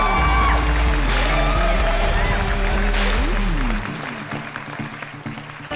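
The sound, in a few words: audience applause for a comedian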